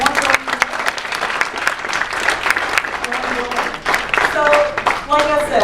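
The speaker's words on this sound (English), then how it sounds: "you can clap for that" An audience at a student conference breaks into loud, sustained applause, with many hands clapping together and a few voices rising briefly over it.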